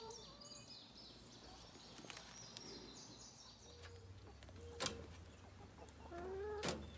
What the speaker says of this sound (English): Chickens being chickens.